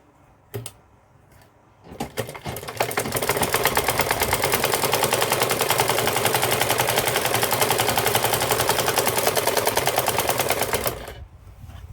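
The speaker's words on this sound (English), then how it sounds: "So now I want to connect it to the dress itself, so I'm going to sew it at the neck round." A sewing machine runs steadily for about eight seconds, stitching the neckline of an A-line gown with a turtle neck, its rapid even chatter loud and close after a few brief starts.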